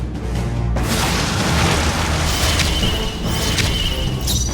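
A loud fiery blast rips out from the Raging Fire spell attack in the Metaphor: ReFantazio video game, starting with a sudden boom, then a sustained roaring, crackling burst of flame that fills the whole moment.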